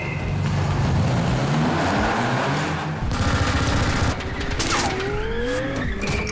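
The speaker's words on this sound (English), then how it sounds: "he's being shot at by a machine gun and shot at by these grenade launchers" A car stunt on a Furious 7 film set, with a loud engine roar and tire noise overlapping dense bursts of rapid machine-gun fire, close and continuous.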